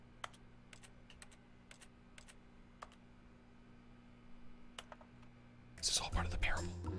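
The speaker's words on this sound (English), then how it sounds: "I just realized that my interaction sound is literally like keyboard noises." The keyboard-like interaction sound in the video game The Stanley Parable Ultra Deluxe comes as scattered faint typing clicks over a low hum, followed at the end by a louder burst of noise.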